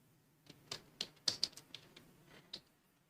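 Commands being typed on a computer keyboard in a quiet room: a short, irregular burst of about ten light key taps over three seconds.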